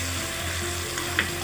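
Onions fry with tamarind juice in a pan for an onion gojju curry, producing a dense, even sizzle up close with one brief soft scrape near the end.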